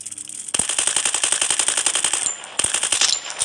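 Rapid automatic gunfire from the mobile battle-royale game Free Fire, a loud dense burst of shots lasting about two seconds, a brief pause, then another burst, with no talking.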